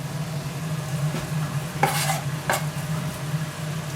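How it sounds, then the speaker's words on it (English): Smoked salmon going into a hot pan for a creamy pasta, a steady sizzle with two brief scraping stirs of a utensil partway through, close and without talk. "And in goes the salmon."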